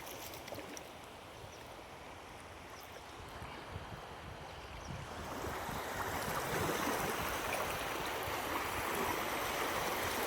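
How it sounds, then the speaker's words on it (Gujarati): Sea waves wash onto the shore at Sartanpar, a steady broad rush of surf that swells louder in the second half, heard alone without talk. "બાકી કેમ લહેર આવે છે જો દરિયાને મોજા કેમ."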